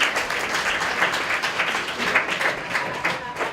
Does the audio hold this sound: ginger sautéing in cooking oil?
no